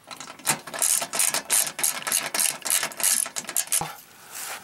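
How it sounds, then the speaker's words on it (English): A 3/8 socket ratchet tightens deck bolts on an MTD LT5 riding mower with a 42-inch deck, giving rapid, steady clicking strokes in quick bursts, close and fairly loud, with no talking. "Ratchet."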